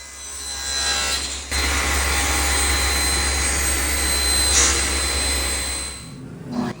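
A power saw cuts workshop wood boards to width and length, whining loudly and continuously for several seconds after a brief lead-in, then spinning down near the end.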